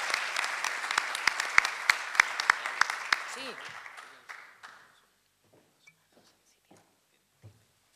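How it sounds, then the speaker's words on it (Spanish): Audience applause for a speaker at a labour law conference in Puerto Montt, a steady crowd clapping with a few sharp nearby claps that fades out after about five seconds, followed by quiet room noise and small knocks. "Le damos un fuerte aplauso, por favor"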